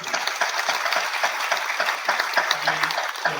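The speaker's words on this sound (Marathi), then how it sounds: "आपण सगळ्यात आधी जोरदार टाळ्या वाजवूया या नाटकाचा लेखक आणि दिग्दर्शक विनोद रत्ना याच्यासाठी" An audience at a Marathi one-act play competition claps for the play's writer and director, a dense run of many hands clapping at moderate distance that carries on steadily.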